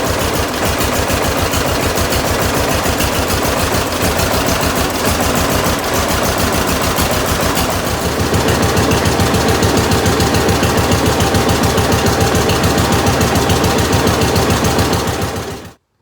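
A John Deere 50 tractor engine runs steadily and loudly up close, its rapid, even pulsing filling the whole stretch before it cuts off abruptly at the end.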